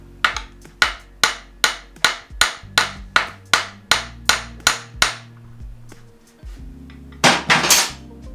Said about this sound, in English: I just got a ball peen hammer. So we're just going to tap on the end of the axle